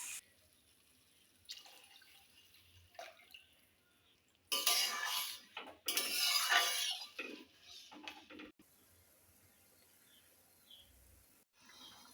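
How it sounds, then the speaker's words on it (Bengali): Two cups of water poured into a cooking pot while making paneer pulao, a rushing, splashing pour in two strong bursts with softer trickles and clatter around them, close and loud. "এর মধ্যে আমি এবার 2 কাপ পরিমাণে জল দিয়ে দেব।"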